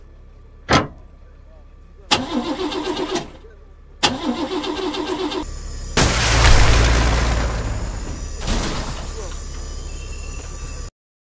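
In the Henry Stickmin game, a tank engine revs in short separate bursts, followed by a heavy rumbling explosion-like roar and a final mechanical burst, with silent gaps between the loud segments.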